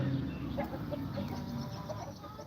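Polish rooster and hens clucking together outdoors in a farmyard, a steady flock chatter of short clucks and calls at moderate distance with no talk.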